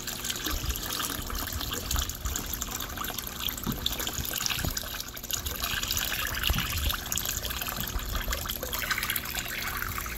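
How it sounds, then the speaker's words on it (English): Salty water poured into a freshwater native fish aquarium tank, a continuous close gushing and trickling splash that runs steadily, with faint irregular clicks, and no talking. "try to pour this in one-handed so you can see what this salty water looks like pouring into the fresh"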